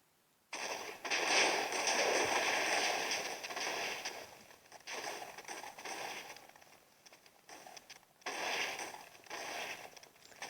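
Loud crackling bursts of Minecraft explosions in several waves, each rolling on for a few seconds before fading, with short lulls between them.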